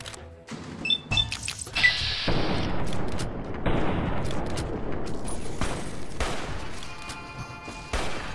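Gunfire in the video game Fallout New Vegas, with a loud opening burst of rapid shots, then sustained noisy rumbling and further sharp reports throughout, dense and close.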